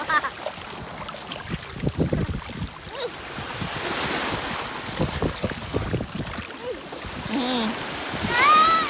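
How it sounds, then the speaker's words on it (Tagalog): Strong wind roars and buffets the microphone by the shore, with surf rushing underneath and brief voices and exclamations breaking through. "Lakas ng hangin."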